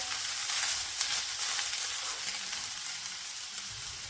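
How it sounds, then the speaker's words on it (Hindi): Vegetables fry in a pan, giving a steady, soft sizzling hiss throughout with faint crackles and no voices. "इसको हल्का सा भूनेंगे ताकि इसकी जो स्मेल है वो खत्म हो जाए"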